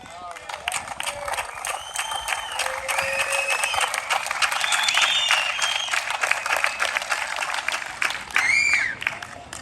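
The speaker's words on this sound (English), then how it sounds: "I don't think you have to stop the applause." A crowd at a heroes highway ride gathering applauds and cheers, with clapping rising and falling and voices calling out across the noise.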